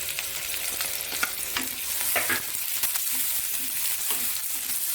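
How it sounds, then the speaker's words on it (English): Chopped onions and garlic sizzle steadily in hot oil in a pan, with a spoon scraping and stirring through them in irregular strokes close up. "I'm going to put 3 chopped onions and 1 garlic."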